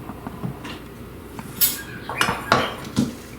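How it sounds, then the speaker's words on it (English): Thick root beer float fudge mixture is scraped from a heavy pot into a separate bowl, making soft scrapes and several sharp metallic clinks and knocks of utensil against cookware, with no talking. "in a separate bowl, I'm going to put about 1/3 of my mixture."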